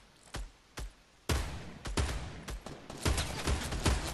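Gunfire in the Fortnite video game: several sharp single shots early on, then a denser run of rapid overlapping shots with a busy, loud game backdrop.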